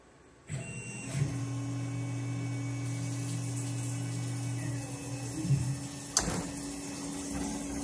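A CNC machine cuts a part for a 9-cylinder radial engine, a steady low motor hum and faint whine running throughout with a few brief clunks and a sharp click near the end, fairly quiet.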